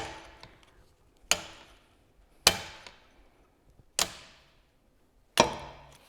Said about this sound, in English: I'm going to hold the punch on here into place, and then I'm just going to give it some good whacks